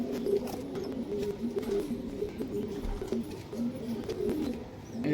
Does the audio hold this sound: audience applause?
no